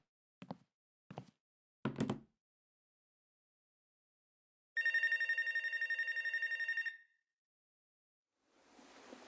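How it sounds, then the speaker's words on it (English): A telephone rings in the video game Life Is Strange: True Colors, a steady electronic trill lasting about two seconds after a few soft knocking thumps, with a faint hiss creeping in afterward. "Guess we can go answer the other phone call then."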